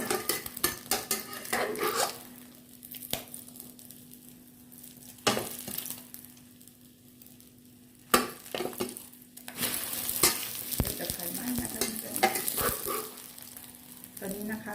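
A Thai omelette fries with plenty of shallots in a pan, a steady sizzle broken by sharp metallic scrapes and clinks of a utensil against the pan, close up.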